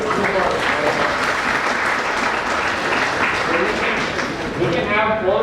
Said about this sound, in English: let's clap for the guys who really